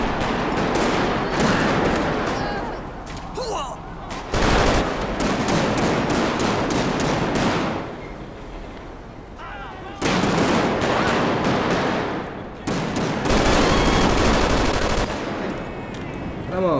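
Gunfire rings out in a nighttime GTA 5 police shootout: loud, rapid bursts of shots come in repeated clusters with brief pauses between them, with voices talking over the shooting.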